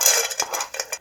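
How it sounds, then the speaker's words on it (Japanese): Walnuts and peanuts stir-fried in a hot frying pan over medium heat for a Korean side dish: close, busy rattling and clattering of nuts and utensil against the pan in several bursts, with no voices. "まずくるみとピーナッツを炒めます。"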